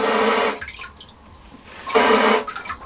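Two bursts of hissing water spray from a bidet nozzle, each lasting about half a second to a second, with a quiet pause between them.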